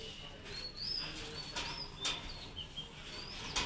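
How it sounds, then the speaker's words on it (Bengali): An Australian dove calls softly with a few faint coos and chirps spread over a quiet background, fairly distant and low in level. "এই যে আমাদের অস্ট্রেলিয়ান ঘুঘু"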